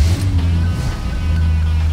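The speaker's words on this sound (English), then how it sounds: "let me go ahead and fire it up for you so you can hear what it sounds like" A 1977 Chevy Corvette's V8 runs at a steady low idle, a deep continuous rumble close by with a slight rise in revs partway through, and no talk over it.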